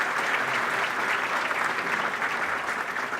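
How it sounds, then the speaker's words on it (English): Audience applause fills an awards ceremony honoring inductees, a steady, dense wash of clapping from a large crowd that holds at full level throughout with no talk over it. "So a round of applause for everyone who is being inducted."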